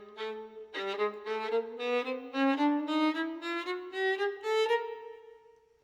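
Violin plays a chromatic line rising in half steps, about eight bowed notes in a smooth, even sequence, clear and alone.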